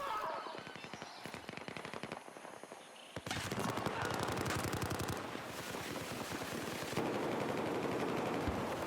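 Type 88 LMG fire in a multiplayer shooter game: rapid, continuous automatic bursts with clattering rhythm, mixed with other distant game gunfire, fairly loud throughout.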